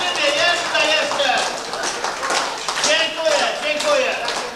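Crowd applause at a 1994 CB radio party in Kuźnica Zbąska, Poland: dense, sustained clapping fills the whole stretch at steady loudness, with voices mixed in among the hands.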